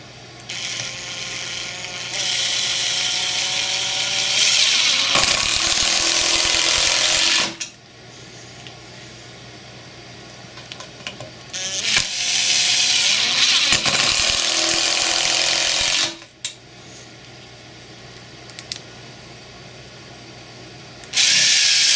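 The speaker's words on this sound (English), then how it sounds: "we'll just drive 4 screws in and take them out just like the rest" A Makita Impact X impact driver runs in two long bursts of steady, loud mechanical whirring and hammering as screws are driven in and backed out, with quieter pauses between and a third burst starting at the end.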